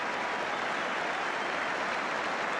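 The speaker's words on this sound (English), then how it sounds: "And the goalkeeper gets applause for the second save." Steady applause from a football crowd at a 1981/82 Everton match after a goalkeeper's save, a broad, even wash of clapping heard from a distance with no voices over it.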